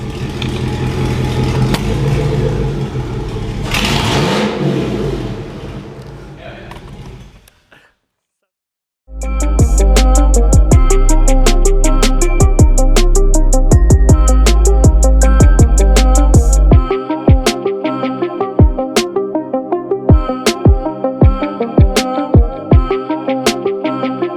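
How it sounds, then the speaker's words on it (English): A 1999 Chevrolet Silverado pickup engine with a new exhaust runs loud and close, first revving, then after a short silence settling into a deep, loping idle with rhythmic exhaust pulses. "this truck sounds good"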